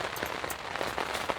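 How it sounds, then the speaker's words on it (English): Steady rain falling outdoors, a dense continuous patter with scattered sharper drops, filling the whole short stretch at moderate loudness. "He doesn't like the sound of that rain"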